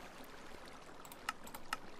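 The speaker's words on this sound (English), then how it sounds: "That's some loud water sounds." Flowing water in Minecraft, a soft continuous trickling rush at low volume, with two small sharp clicks near the end.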